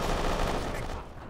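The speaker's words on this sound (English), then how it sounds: "I'm grabbing the AK and I'm shooting at him" An AK rifle firing in Kane and Lynch 2, a dense, loud burst of gunfire that fills the short moment and then tails off slightly at the end.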